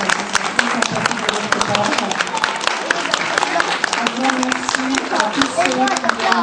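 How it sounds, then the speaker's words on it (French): An audience at a wedding fair claps for the models after a fashion show, producing a sustained, lively crackle of many hands, fairly close and loud, with a voice speaking briefly beneath the applause. "Si vous voulez bien les applaudir"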